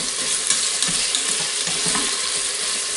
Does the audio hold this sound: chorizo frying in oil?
yes